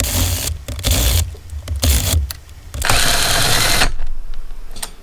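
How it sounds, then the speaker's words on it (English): A power drill buzzes in short, repeated bursts with gaps between them, loud and close, with rattling and scraping as it spins, seating cam bolts on a Yamaha YZ450F dirt bike engine. "I'm not torquing it down with the drill, I'm just getting the bolts seated."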